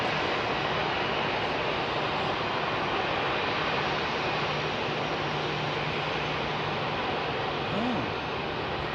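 A Titan Airways passenger-to-freight converted airliner at Heathrow's runway 27R, heard as a loud, steady broadband engine roar that fills the whole stretch without letting up.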